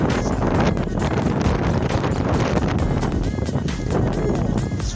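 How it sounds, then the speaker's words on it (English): Strong wind buffets the microphone outdoors in open nature during a bicycle outing, a loud, continuous rushing roar with gusty fluctuations filling the whole stretch. "It's very windy."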